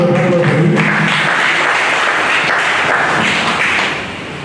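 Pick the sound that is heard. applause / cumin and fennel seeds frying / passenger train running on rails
applause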